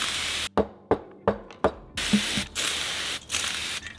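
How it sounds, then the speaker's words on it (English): Brake cleaner sprayed from an aerosol can onto valves from a Subaru STI engine: a quick run of short hissing bursts, then longer sustained sprays, close up with no talk. "I'm just going to be cleaning them with brake clean and a brass brush."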